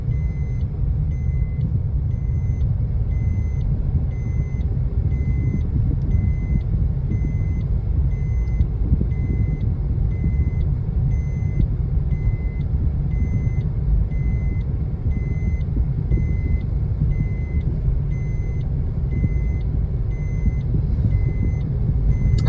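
A vehicle moving with a steady rumbling engine while a reversing alarm beeps in a regular, continuous rhythm throughout, neither drawing nearer nor fading.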